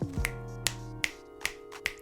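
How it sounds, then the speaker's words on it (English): Finger snaps ring out at a talk gathering, five or six crisp, evenly spaced snaps about half a second apart over a faint sustained tone, with no talking. "Snap it up for me. Snap it up. Don't clap it up. Snap it up."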